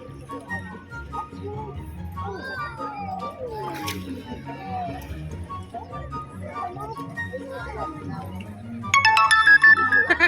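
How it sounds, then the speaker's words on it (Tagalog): A phone notification chime rings out loud and close near the end, after stretches of voices and beach ambience by the sea at Tali Beach in Nasugbu, Batangas. "Ayan, notification lang yan."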